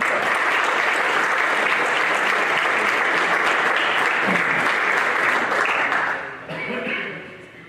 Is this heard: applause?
yes